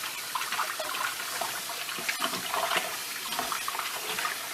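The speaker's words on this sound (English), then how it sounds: "You want to wash this well." Chicken pieces washed under a running kitchen tap, a steady close hiss of flowing water with small splashes from handling, and no talking.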